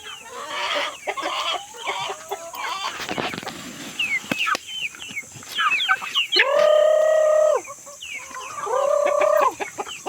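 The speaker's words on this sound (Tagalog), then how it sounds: "Papakainin ko yung mga sisiyo." Young chicks in a poultry breeding area cluck and peep busily while being fed layer feed, a dense, lively chatter that builds into several longer, sustained calls near the end, with no talking.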